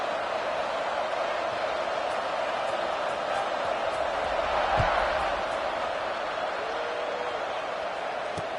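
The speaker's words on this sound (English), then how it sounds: "this crowd is buzzing after that last score" A stadium crowd at a video-game football match keeps up a steady, broad buzz throughout, loud and even with a brief swell near the middle and no clear applause bursts.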